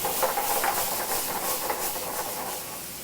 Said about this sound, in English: Then we'll hit our quinoa in here that's already been pre-cooked. A little bit of veg stock.